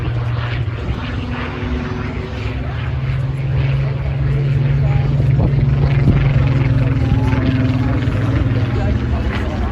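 A Spitfire Mark 14 fitted with a 2,000 horsepower Rolls-Royce Griffon engine flies past at an air show in Ayr, Scotland, its steady, deep propeller drone swelling gradually as people talk beneath it.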